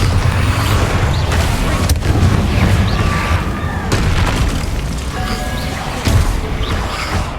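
Bombarda spell explosions in the video game Hogwarts Legacy: repeated booming blasts with crackling debris and mechanical clanks, steady and loud throughout, with sharp bursts near the start and later on.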